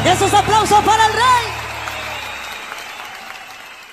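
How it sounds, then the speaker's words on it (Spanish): An audience at a copleros gathering breaks into applause while a voice carries over the start, the clapping tapering off and fading to quiet. "Esos aplausos para el Rey."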